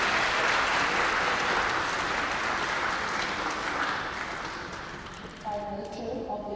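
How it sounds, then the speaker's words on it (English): An audience at the Two Oceans Graduation Institute graduation ceremony applauds in a dense, steady wash of clapping that gradually thins out, and a voice begins speaking over the last of it. "another round of applause"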